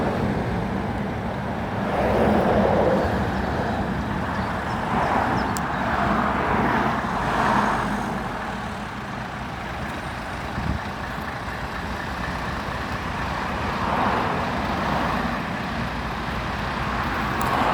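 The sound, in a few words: Scania truck tractor units driving past at a fuel protest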